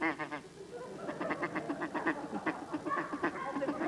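A duck call is blown in a feeding-call pattern on a 1969 television panel show, giving a rapid run of close, raspy quacking chatter that goes on steadily for about four seconds.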